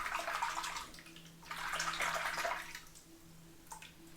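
Running water rinses a TRC double-edge safety razor in two bursts of splashing flow, with quieter dripping and a brief tap between, close up and alone.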